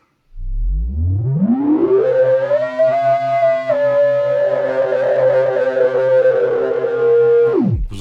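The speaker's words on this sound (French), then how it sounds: "Vous entendez toute cette saturation qu'il y a là-dedans?" A Korg Wavestate synthesizer tone with its filter at full resonance and heavy saturation swells up from a low rumble into a loud, siren-like whining note that holds, then drops away sharply.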